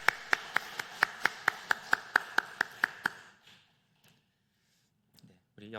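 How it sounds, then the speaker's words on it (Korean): A church congregation claps together at a Wednesday worship service, about a dozen evenly spaced sharp claps in unison lasting three seconds, then fading to near silence with a faint voice near the end. "우리 격려하고 축복하는 박수 하도록 하겠습니다"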